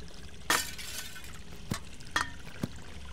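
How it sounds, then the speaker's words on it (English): Window glass shatters in the game Hello Neighbor, a sharp crash followed by several lighter glassy clinks and impacts, fairly quiet and without voices. "I love when the window shatters"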